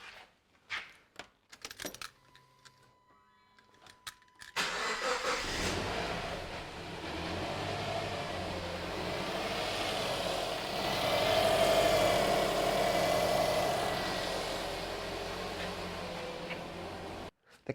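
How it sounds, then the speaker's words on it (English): After a few quiet clicks and a brief electronic tone, a Subaru Impreza's engine cranks and fires, then settles into a steady close idle that swells slightly and holds until the end. "Let's start this car."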